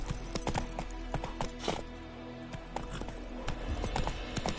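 Roach the horse from The Witcher 3 trotting with rhythmic, close clip-clop hoofbeats that keep an even pace throughout, with no voices over them.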